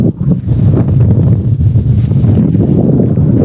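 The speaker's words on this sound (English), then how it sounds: "This wind is crazy." Strong outdoor wind buffets the microphone in a loud, continuous low rumble with gusty fluctuations and no voices.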